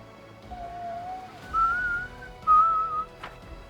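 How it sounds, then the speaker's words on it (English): A person whistles a few sustained notes close to the microphone, the second and third phrases louder and brighter, over quiet background. "Probably shouldn't be whistling directly into the microphone."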